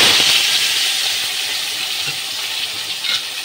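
Vegetables hit hot oil seasoned with black cumin seeds, setting off a loud, continuous, close hiss of frying that tapers only slightly and swells briefly again near the end.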